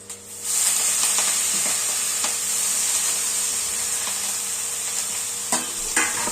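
Fenugreek (methi) leaves go into hot oil on a low flame and are stirred, producing a sudden loud hissing sizzle that holds steady, with occasional scraping knocks of the spoon and no voices.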